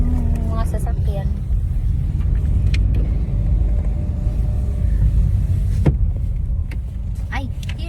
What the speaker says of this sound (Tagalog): So mag-park muna kami ng sasakyan.